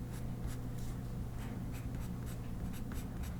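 Colored pencil strokes sketch fine fur texture lines on paper, a close, soft scratching that comes as quick repeated short strokes over low background hum.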